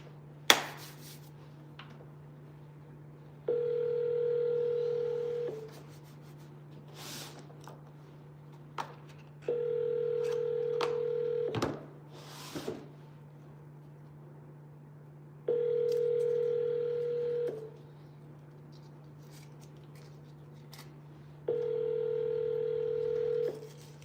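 A telephone call rings out over a constant low line hum, four evenly spaced long ringback tones of about two seconds each, with a few sharp clicks in the gaps and no voices.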